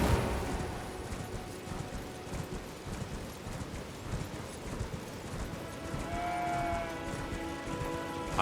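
Hooves of a horse mount in the video game Elden Ring clip-clop steadily at a trotting pace, quiet and continuous over low ambient game sound, with no talk.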